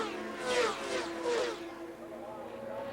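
Superbike motorcycles racing in the 1993 Daytona 200 sweep past in two rising-and-falling engine whines through the chicane toward the east banking, with a commentator talking over them.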